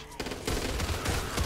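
Rapid bursts of RPK machine gun fire in Back 4 Blood, a close, loud string of shots in quick succession with brief gaps between volleys.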